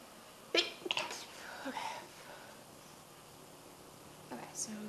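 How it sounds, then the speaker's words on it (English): A person sneezes while playing a LEGO Harry Potter video game, with a couple of sharp, close bursts and breathy fragments near the start and another faint burst at the end over a quiet background. "I'm about to sneeze."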